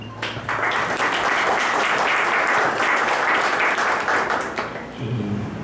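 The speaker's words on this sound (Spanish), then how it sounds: "a quien por favor recibimos con un saludo, con un aplauso" Sustained applause from a seated audience at a judicial conference welcomes a doctor to the podium, a dense, loud wash of clapping holding steady for several seconds before tapering at the end.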